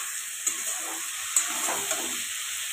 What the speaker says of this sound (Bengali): পালং শাকটা দিয়ে কিন্তু ভালো করে কষিয়ে নিতে হবে।